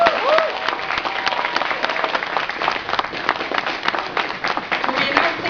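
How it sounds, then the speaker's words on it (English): Sustained applause from an audience at a fan convention, honoring the cosplayers: dense, steady clapping filling the whole stretch with crowd noise, while a voice calls out briefly near the start. "let's have another round of applause for our cosplayers"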